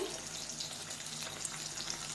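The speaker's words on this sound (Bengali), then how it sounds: "এখন রান্না করছি এই ইলিশ মাছ ভাজা করছি" Hilsa fish pieces fry in oil in a home kitchen, a faint continuous hiss and crackle of sizzling heard from a little distance, with no voices.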